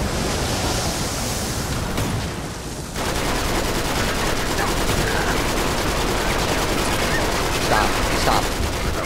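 Dense, continuous gunfire from a firefight in the video game Uncharted 3: Drake's Deception, with bursts layered over a constant noisy roar and a brief dip near the start.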